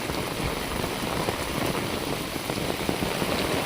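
Record-breaking heavy rain pours down over flooded farmland as a dense, constant roar of drops on surfaces, steady and unbroken with no voices.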